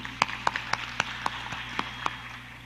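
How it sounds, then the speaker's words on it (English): Sparse, slow clapping from a small audience welcoming a panel speaker at a South China Sea policy dialogue in Manila, roughly a dozen distinct claps spaced out over a low background hum. "Please give him a round of applause to welcome him."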